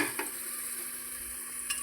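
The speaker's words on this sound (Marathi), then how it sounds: "आपला कांदा बघा मस्त तेलामध्ये फ्राय झाला" Onion frying in hot oil in a pan, stirred now and then: a steady close sizzle with a couple of soft scraping stir sounds, no voices.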